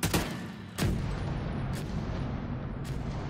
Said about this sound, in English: Those are firecrackers, aren't they?